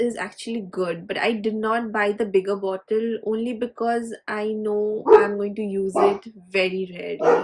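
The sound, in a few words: dog barking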